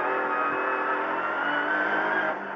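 A rally car accelerates hard during a shakedown run at Rally Český Krumlov 2021, its engine holding a loud, strained high-revving roar throughout, close up from inside the car.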